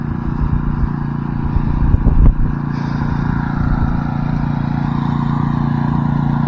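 A motorized sprayer engine runs steadily at close range, a continuous mid-pitched drone with a brief clattering bump partway through and no talk over it.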